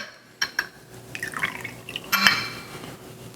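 Bourbon whiskey trickles out of a bottle in a grilling kitchen, a few short glassy splashes and drips, close and fairly quiet, with no talking.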